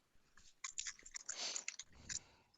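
Crackers crinkled and rustled out of their packaging near the mic, a run of close, sharp crackling bursts broken by brief pauses.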